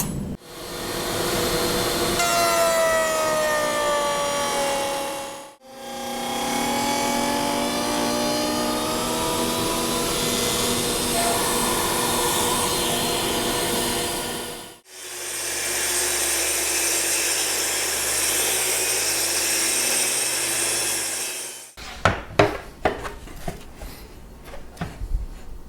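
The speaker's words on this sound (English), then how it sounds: "after cutting a straight edge with my track saw" A track saw cuts a straight edge along a white oak board in three long, loud passes of whining motor and blade, each separated by a brief drop to silence. Sharp knocks and clatter follow the last cut.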